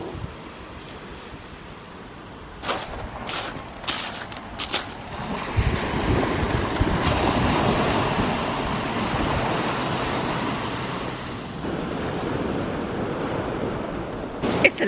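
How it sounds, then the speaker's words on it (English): Wind and surf wash over a beach at sunrise, a steady rushing roar with gusts buffeting the microphone and a few sharp knocks early on, close and loud. "we are heading down to the beach for a sunrise swim"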